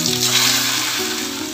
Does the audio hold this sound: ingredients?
yes